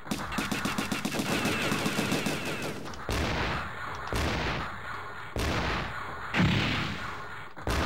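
Rapid rattling automatic gunfire from the Sega Saturn game Pickups Blast, a dense burst for the first three seconds followed by repeated heavier blasts and explosive bursts with game audio, loud and continuous.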